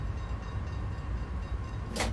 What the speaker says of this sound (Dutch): zet even de trein hier netjes stil.